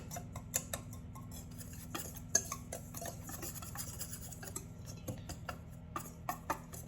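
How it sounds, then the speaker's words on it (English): A utensil stirs low-carb keto donut batter in a bowl, breaking up lumps, with light irregular clinks and scrapes over a steady low hum. "Give that a stir,"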